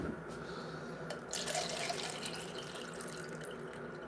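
Water runs steadily from a kitchen tap while pancakes and coffee are being made, a close, continuous rushing splash with no talking.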